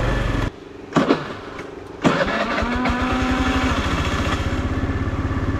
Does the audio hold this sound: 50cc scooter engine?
yes